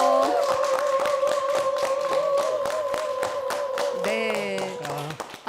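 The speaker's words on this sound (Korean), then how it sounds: "여러분 박수로 맞아 주십시오." A television lecture studio audience claps to welcome a speaker, with loud, steady, rhythmic claps over bright music that plays throughout.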